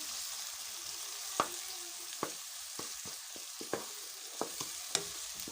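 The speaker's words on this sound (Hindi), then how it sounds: "अब टमाटरों को भी हम फ्लेम थोड़ा तेज़ करते हुए प्याज के साथ फ्राई करेंगे।" Tomatoes fry with onions in a pan over a raised flame for a potato karahi, giving a steady soft sizzle broken by several sharp clicks of a spoon stirring against the pan.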